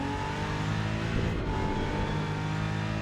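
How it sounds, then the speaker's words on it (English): A race car engine in the Rennsport racing video game holds a loud, sustained high-rev drone throughout, a steady roaring tone with no voices. "Revving it out all the way."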